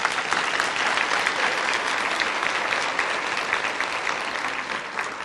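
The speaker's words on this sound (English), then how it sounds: "let's give you another round of applause." A standing audience at an Alzheimer's Association breakfast gives a round of applause, a loud, dense and continuous clapping that tapers off gently toward the end.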